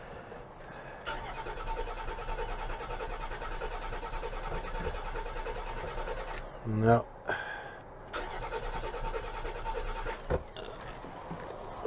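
A 2003 Land Rover Freelander engine cranks over and over without catching, a steady whirring churn that runs for long stretches and pauses between attempts, with someone talking close by in between.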